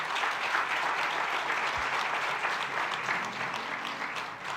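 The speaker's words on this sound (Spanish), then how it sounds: "Todos aplaudieron menos los de la pastoral familiar." A church congregation claps together in sustained, even applause during a sermon, with no talking over it, holding steady before easing off near the end.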